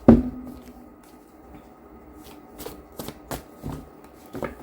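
Quick riffle bursts of a deck of tarot cards being shuffled, several short rattling passes in a row, close and clear with no talking.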